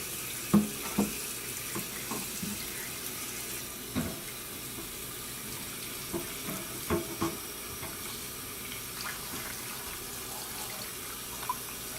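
A kitchen tap runs steadily into a bowl as bok choy is rinsed, a continuous wash of water with occasional splashes and clinks, close and moderately loud.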